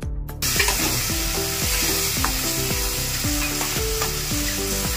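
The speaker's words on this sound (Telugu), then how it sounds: "ఈ టమాటో పేస్ట్ అనేది కొంచెం పచ్చి వాసన పోయేంత వరకు కొద్దిసేపు అయితే ఫ్రై చేసుకోవాలండి" Tomato paste fries in a pan for a mushroom masala, a steady loud sizzle broken by repeated scraping strokes of a spoon stirring it, with no voices.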